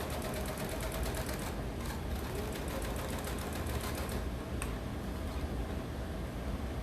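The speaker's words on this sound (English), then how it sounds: "this sewing machine seems like a toy compared to what I have in the other part of my studio" A sewing machine stitches fabric for a jelly roll quilt project in a steady, rapid run of close, even mechanical ticks, continuous and alone without any talk.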